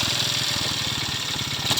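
A small Honda motorcycle engine runs at a steady idle with the clutch held in, its rapid low putter pulsing evenly and close by.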